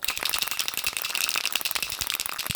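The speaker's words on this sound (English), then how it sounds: "before you apply this thing, shake well." Rapid rattling clicks from a spray can of brake product being shaken, a mixing ball knocking quickly back and forth in a steady, close-up burst.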